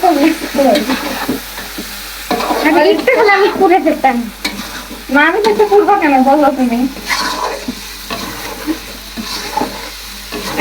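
Chicken stir-fried and worked in a pan with a steady loud sizzle and stirring scrapes throughout, while two voices talk over it.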